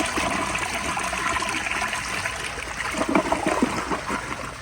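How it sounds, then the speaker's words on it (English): A 1997 TOTO Carusoe toilet flushing loudly up close, a continuous rushing gush of water that swells and gurgles toward the end, with no talking. "here is another flush."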